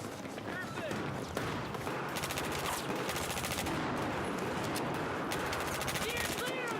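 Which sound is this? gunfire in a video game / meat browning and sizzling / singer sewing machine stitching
gunfire in a video game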